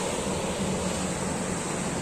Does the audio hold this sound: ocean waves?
yes